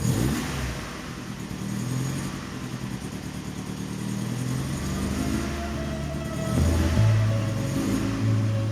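An Alfa Romeo 33 engine, freshly repaired after an ignition fault left it running on three cylinders, idles and takes light blips of throttle, rising in a louder rev near the end, close and unaccompanied by voices.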